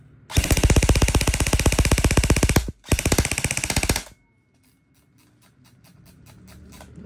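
An E&C 342-1 airsoft AEG rifle fires two long full-auto bursts, a rapid loud mechanical rattle with a short break between them, then quieter ticking.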